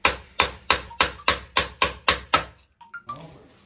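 A stuck alloy angle valve is knocked nine times in a steady, quick rhythm, each blow sharp, loud and close, followed by a few lighter taps and fainter handling sounds.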